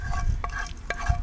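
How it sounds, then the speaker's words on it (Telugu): A hot spice tempering of lentils, mustard seeds, cumin and dried red chillies is poured over bottle gourd chutney. It gives a short, close sizzle with scraping stir-like bursts, and no voices are heard. "పోపు కూడా పైన నుండి వేసేద్దాం."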